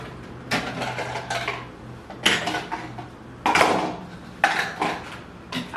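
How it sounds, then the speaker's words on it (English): Dishes and cutlery clattering as they are loaded into a dishwasher, several sharp clanks and rattles in irregular bursts, close and fairly loud, with quieter rustling between. "these dishes is going back in here."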